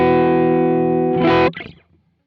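Electric guitar played through a basic amp model and 2x12 cabinet on a Quad Cortex, a loud distorted sustained chord ringing out, then a brief scrape and quick fade, with no talking.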